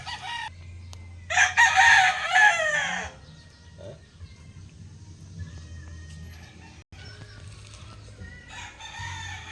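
A sweater gamefowl rooster crows loudly and close at a backyard gamefarm, one long harsh crow with fainter clucks and farm sounds around it.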